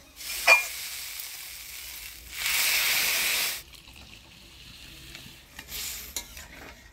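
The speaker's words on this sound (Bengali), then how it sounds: "মশলা দিয়ে ছোলার ডালটা ভালো করে নাড়াচাড়া করে নিলাম" Chana dal with spices, green chillies and salt being stirred in a pan, giving a sharp hiss and frying sizzle with bursts of scraping, close by, then settling into a quieter background crackle.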